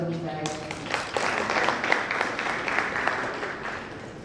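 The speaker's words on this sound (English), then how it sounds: "a round of applause for me" At a StunnerBiz season 4 business event, a voice speaks briefly before the audience breaks into moderate applause, a lively patter of many hands that carries on evenly and tapers slightly at the end.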